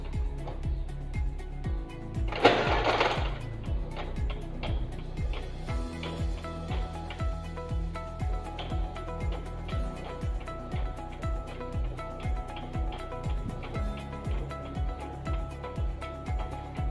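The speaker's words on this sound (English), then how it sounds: "press ko po ito to continue printing" A printer feeds and prints a folded programme invitation with a regular mechanical ticking rhythm. A short burst of whirring comes early on, then evenly spaced clicks continue at moderate volume throughout.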